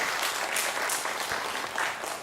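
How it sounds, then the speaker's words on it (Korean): Applause fills a Sunday church service after a testimony, a steady wash of many hands clapping at moderate distance, lasting the whole short stretch without talk. "박수 한번 쳐주세요"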